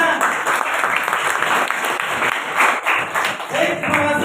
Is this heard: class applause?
yes